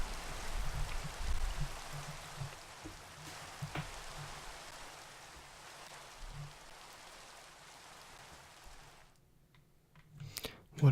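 Rainfall in the video game Minecraft, a soft even hiss of raindrops with faint clicks beneath, steady for most of the stretch before cutting off near the end.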